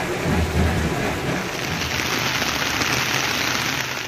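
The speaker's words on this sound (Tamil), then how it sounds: "இடி மின்னலுடன் கூடிய கனமழை பொழிந்தது" Heavy rain with thunder pours steadily during a night storm in Rajapalayam, Virudhunagar district, with a dense, loud hiss of rainfall and deep rumbling thunder rolling underneath, continuous throughout with no talk.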